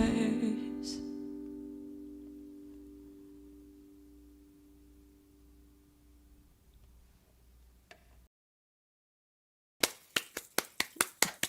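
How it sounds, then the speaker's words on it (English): After a song at a Women's History Month concert, a few close hand claps ring out sharply after a lingering fading tone and a short silence, sparse and evenly spaced. "My clapping starts a long time before you actually hear it."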